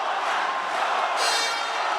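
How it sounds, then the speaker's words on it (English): The crowd at a Brave 1 free-fight event roars in a continuous, dense wall of cheering and shouting, heard from within the arena. "the crowd's just going crazy"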